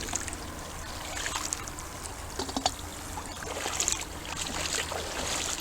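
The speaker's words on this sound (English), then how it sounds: "Let me wash it again." Water splashing and trickling as a metal object pulled up by magnet fishing is rinsed in a creek, with irregular swishes and drips, close and fairly quiet, and no one talking.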